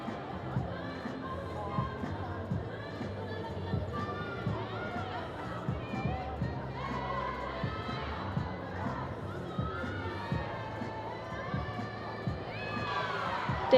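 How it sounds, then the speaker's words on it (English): A gymnastics team at a college meet shouts and cheers for a teammate performing on the balance beam, a steady crowd roar with excited high voices and chatter, indoor arena ambience throughout. "It's great hearing her team cheering her on."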